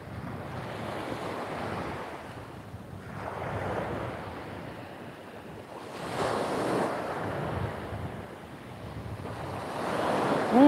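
Strong wind blows by the sea on Koh Phangan, a steady rushing roar with gusting swells that rise and fall in several waves, surf mixed in and mic buffeting throughout, with no talk.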